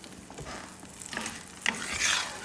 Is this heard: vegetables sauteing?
yes